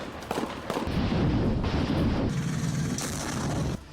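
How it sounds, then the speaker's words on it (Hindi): Artillery shelling in war footage from the Russia-Ukraine fighting in Donbas, with heavy, sustained low rumbling booms and blasts rolling in the distance and no talk. "रूसी सैनिक अपने इलाकों की रक्षा में जुटी यूक्रेनी सेनाओं पर तोप से खूब गोले बरसा रहे हैं।"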